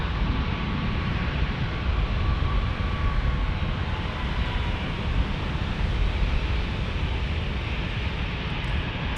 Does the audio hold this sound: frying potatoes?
no